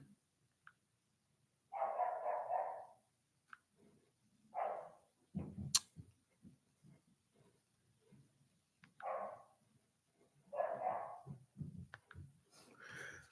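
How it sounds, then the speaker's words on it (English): A dog barks in short, separated bursts, a few close together then a pause and more, at moderate volume in an indoor setting with light background clatter. "I'm going to shoot that dog."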